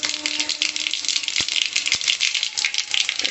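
Mustard and other tempering seeds crackle in hot oil in a kadai for a Telugu-style bendakaya (okra) curry, giving a steady dense popping and spattering that stays close, with a couple of sharper clicks and no talk.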